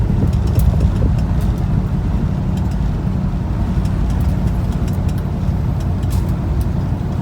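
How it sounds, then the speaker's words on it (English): An old Nebraska farm truck drives along, its engine and road rumble loud and steady throughout, with a dense low drone and no pauses. "Old Nebraska farm truck."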